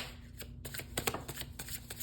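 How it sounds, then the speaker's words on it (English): Tarot cards are shuffled close up during a reading, a quick run of crisp riffling flutters and soft slaps over about two seconds, quiet and with no talk. "One more shuffle, please."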